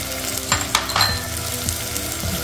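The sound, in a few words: green beans, carrot and cauliflower frying in pan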